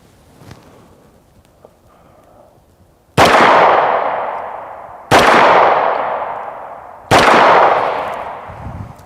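Three sharp 9mm pistol shots fired at an AR500 steel body armor plate outdoors, each loud crack followed by a long decaying ring, spaced about two seconds apart after a quiet lead-in.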